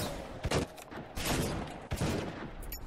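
An automated turret fires in BioShock, bursts of rapid gunfire crackling loudly in several clusters over a few seconds with short gaps between volleys.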